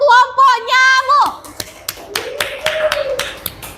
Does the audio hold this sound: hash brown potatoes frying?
no